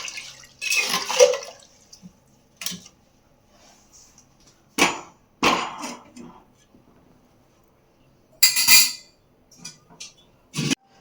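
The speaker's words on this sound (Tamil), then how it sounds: "இன்னும் கொஞ்சம் தண்ணி ஊற்றிக்கலாம்." Water is poured into a cooking pot of chili-spiced curry set on a gas stove, coming as several short, close splashing bursts separated by quiet gaps, with a person talking between them.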